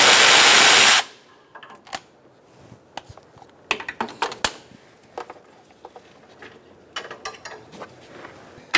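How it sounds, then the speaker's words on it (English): Ratchet with a 10 mm socket removing bolts on a 2012-2018 Ford Focus during AC condenser replacement, with quick clicking bursts and scattered metallic ticks after a loud opening burst of noise. "we're going to use a 10 millimeter socket to remove those"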